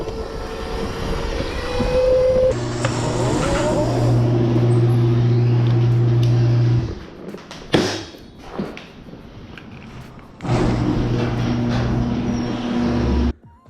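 A Razor MX650 electric dirt bike on street tires whines loudly as it passes along pavement, the motor tone rising and dropping across several steady stretches separated by a brief lull and thumps.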